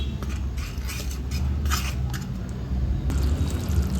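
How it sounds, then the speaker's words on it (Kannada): Fried bitter gourd pieces go into a pan of simmering gravy, giving a steady wet bubbling hiss broken by soft squishy plops and light scraping taps against the pan. The sound stays moderately loud and continuous. "ಹಾಗಲಕಾಯಿ ಪೀಸಸ್ ಹಾಕೊಳ್ತಾ ಇದ್ದೀನಿ"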